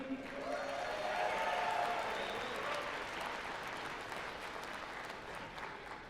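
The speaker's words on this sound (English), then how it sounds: "Can we get a huge round of applause for David Lee?" A crowd at an arm wrestling match applauds in a sustained burst, with faint cheering and voices mixed in, slowly tapering off.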